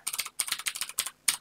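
Quick bursts of keystrokes on a computer keyboard, close and crisp, in several short uneven clusters with brief pauses between them.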